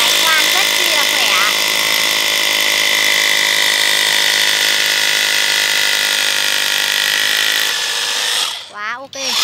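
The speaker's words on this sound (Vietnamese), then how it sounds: "Máy khoan rất chi là khỏe." Cordless three-mode concrete hammer drill boring steadily into first-grade brick, a loud continuous high-pitched grinding whine held for about eight seconds before it stops and a voice speaks briefly.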